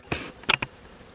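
Bees buzz close by near a freshly drawn honeycomb on a new frame in a garden hive, with one longer buzz followed by two short, louder passes as insects fly near the microphone.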